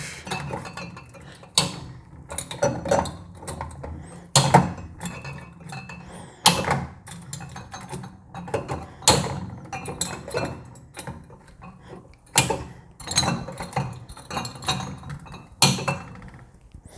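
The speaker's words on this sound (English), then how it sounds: "I will seal them all so I know which ones are filled." Eight glass bottles of water kefir sealed one after another in a sink, sharp clinks, clacks and snapping closures repeating at irregular intervals among faint handling noises.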